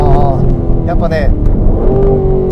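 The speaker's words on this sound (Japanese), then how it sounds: "まあでもね、レーシーというよりはね、とてもスポーティーなエキゾーストノートで好感持てますね。" Aston Martin Vantage on Tokyo streets, a sporty engine and exhaust drone rising and falling inside the cabin, heard under someone talking continuously.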